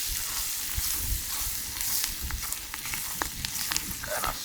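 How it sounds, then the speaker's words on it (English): Spices sauteing for Jamaican curry crab cooked outdoors at a beach, a steady close sizzle and crackle of frying in oil with faint stirring, no talk. "Kind of saute it up a little bit"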